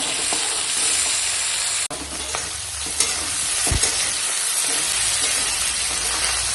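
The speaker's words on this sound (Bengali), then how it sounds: "সবজিটা একটু ভেজে নেবো।" Vegetables sizzle in a hot pan while being stirred, a loud continuous frying hiss broken by a brief dip and a few sharp scrapes and knocks of the spoon against the pan.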